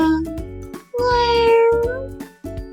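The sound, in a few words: cat meowing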